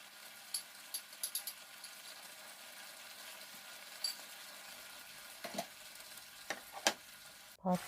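Crispy belly pork and bell peppers stir-fried in a pan: a quiet, steady sizzle broken by sharp scattered clicks and scrapes from the spatula, with a louder clatter near the end.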